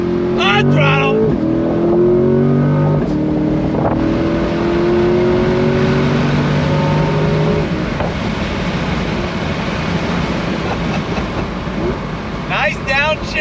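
A 2022 Chevrolet C8 Corvette accelerates hard on throttle, a loud, close engine roar with rising pitch through the gears, dense and rumbly with wind noise throughout and brief shift breaks.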